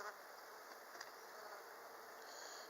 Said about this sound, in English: Very dispirited bees.